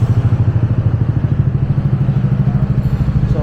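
A Yamaha NMAX scooter with an ECU, a B-Lane Black 470 51mm setup, runs on a dyno: a loud, steady engine drone with a fast, even pulsing throb and mechanical clatter, holding throughout with no talk.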